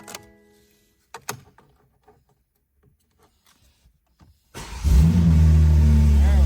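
A rebuilt BMW M4 Competition cranks and fires up: a few faint clicks and taps in near silence, then the engine catches and roars into a loud, steady idle close by.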